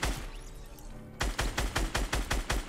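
Fortnite Battle Royale gunfire: after a stretch of busy game ambience, a fast, regular burst of loud, close shots rings out, roughly nine evenly spaced cracks in quick succession.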